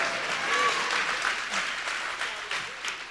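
An audience at a university event featuring Ice-T breaks into applause, a steady wash of many hands clapping at moderate distance that tapers off toward the end.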